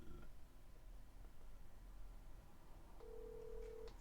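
A telephone call being dialed to a toll-free number, with a steady ringback-style tone near the end over a faint background hiss.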